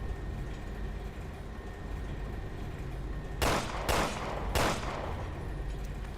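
Three sharp gunshots in Resident Evil: Revelations 2, fired about half a second apart over a steady low game hum, loud and close with no talking.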